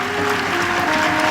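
Steady applause from an audience at a cultural programme at Dev Sanskriti Vishwavidyalaya, Shantikunj, Haridwar, fills the moment, dense and continuous with a faint tone humming underneath.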